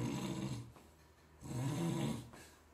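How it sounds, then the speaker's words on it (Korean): Two loud snores come from a sleeper, each a low rasping breath lasting under a second, separated by a quiet pause, close and alone. "이 코골이 소리가 엄청 커져요"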